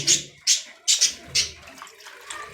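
Water splashing into a love birds' breeding cage during cleaning, heard as about five short, bright splashy bursts in quick succession, close and moderately loud.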